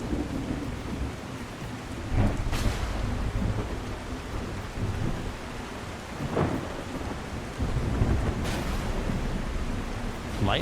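A thunderstorm in the video game The Last Caretaker: steady heavy rain hisses throughout while several thunder cracks and rumbles break through, some sharp and close, others rolling.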